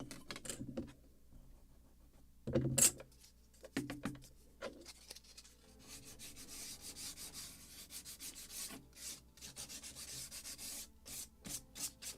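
Sandpaper rubs over wooden planking on a model ship hull, clearing away pencil marks in irregular bursts of scratchy strokes, close by, with a few sharp knocks early on and no talking.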